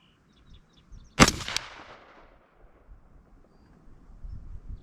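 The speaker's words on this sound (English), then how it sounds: "So let me shoot that target and see where I'm hitting." A single sharp rifle shot fired at a range target with an Oneleaf NV400 day/night scope mounted, loud and close, its report trailing off, followed by faint outdoor rustling.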